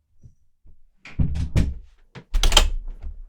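A house door opens to let a cat out: a few close, hollow thunks and latch clicks come in short bursts, with no talk.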